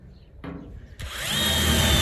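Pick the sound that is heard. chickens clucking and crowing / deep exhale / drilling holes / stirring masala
drilling holes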